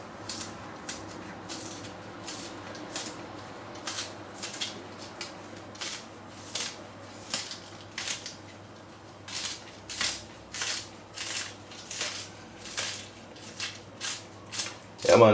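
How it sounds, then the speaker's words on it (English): A knife chops scallion on a cutting board while Jamaican curry chicken is prepared, giving steady, evenly spaced cuts about twice a second that grow slightly louder toward the end, over a low room hum. "Cut up your scallion."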